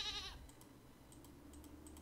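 A short, brief goat bleat from the puzzle video game Rusty Lake Paradise opens the moment, then fades into faint ambient hum with scattered soft clicks.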